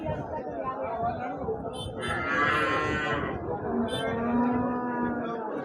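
Several cows moo loudly and close by at a cattle market, long drawn-out lowing calls overlapping with steady crowd chatter and voices in the background.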